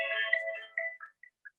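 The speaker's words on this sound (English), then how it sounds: "Sorry, it's ringing." A mobile phone ringtone in a council meeting room, a short melodic electronic tune that plays clearly and then trails off in a few fading notes, with no talk over it.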